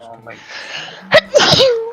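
A single sharp sneeze cuts in after a brief spoken remark, followed by more talking right after.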